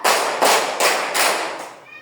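Four sharp hand claps at an even, steady rhythm in a classroom counting game, close and loud, with a brief quiet tail after the last clap.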